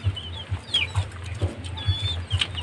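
Chickens and chicks on a mountainside farm cluck in a steady series of low, repeated calls, with a few higher peeps and chirps scattered over them, fairly close and moderately loud.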